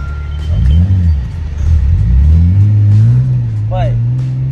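Car engine rumbling and revving as it pulls away, a low, loud drone that rises and holds steady, with a brief voice near the end.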